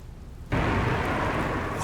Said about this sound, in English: The rain just stopped.